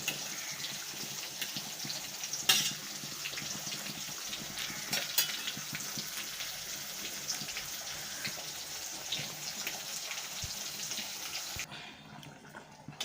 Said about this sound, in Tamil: சாலை மீன் பொரிச்சிட்ருக்கேன்.